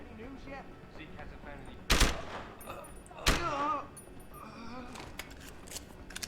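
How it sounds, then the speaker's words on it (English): Gunfire in the shooter game Deus Ex: Human Revolution, with two sharp, loud shots spaced a little over a second apart standing out over a busy game backdrop of voices and scattered clicks. "Can hear gunfire."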